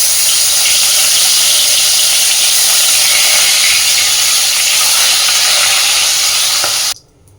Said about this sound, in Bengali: বাকি মাছগুলোকেও সব আমি একইভাবে ভেজে নিচ্ছি।